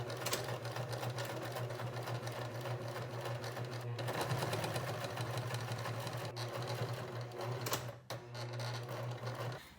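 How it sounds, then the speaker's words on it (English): A sewing machine runs steadily, stitching a tube top seam with the right sides together, a continuous close whirring drone with a couple of brief dips, and no voices. "sew our tube top part right sides together at about 1/2 inch seam allowance"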